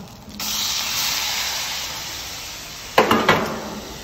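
Sauce hits a hot wok of chicken fried rice with a sharp, steady spray-like hiss, close and loud, followed by a couple of quick clattering bursts near the end.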